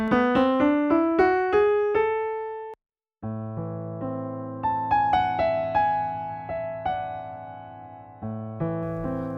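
An A melodic minor scale played up on a sustained instrument, one note after another, then after a short pause, notes continue over held low tones in a slower melodic line.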